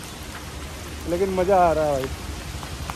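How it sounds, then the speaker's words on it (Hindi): Heavy monsoon rain pours steadily outdoors during a food-delivery rider's shift, a constant broadband hiss that continues beneath a man's brief spoken remark in Hindi. "बारिश भाई बहुत तगड़ी वाली हो रही है"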